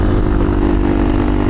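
Motor scooter engines droning steadily close by on the road, Vespas riding alongside, a loud buzzy mid-pitched hum with constant tone and no pauses.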